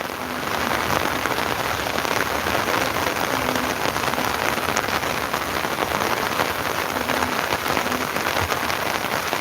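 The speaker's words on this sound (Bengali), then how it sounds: "চমৎকার মুহূর্তে বৃষ্টির মধ্যে গ্রামের পরিবেশ" Steady rain pours on a village in Sylhet, a dense, unbroken hiss of drops that stays loud and even from start to finish, with no voices.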